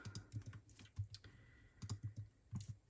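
Keys tapped on a computer keyboard during photo editing, quick clicks in short bursts with pauses between them, close and quiet.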